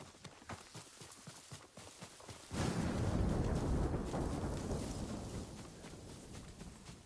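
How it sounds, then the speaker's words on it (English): Thunder rolls in the Ghost of Tsushima video game, a deep rumbling swell breaking out after a stretch of hoof clip-clops and rain, then fading gradually. "And if this thunder don't shut up."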